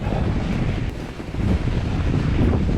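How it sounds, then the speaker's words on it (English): Strong wind roars steadily across the microphone on a wet Rocky Mountain trail during a fat bike ride, with a continuous rushing, buffeting noise and no talking. "Wind is picking up."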